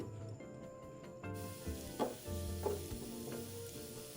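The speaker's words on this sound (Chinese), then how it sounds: "20克小红葱末倒入爆香" Twenty grams of minced shallots sizzle in a tablespoon of hot cooking oil in a wok, a soft, quiet crackle with a few light stirring scrapes partway through.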